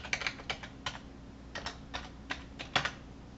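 Someone types a Gmail password on a computer keyboard: a quick, uneven run of crisp, close key clicks in a quiet room, with no talking.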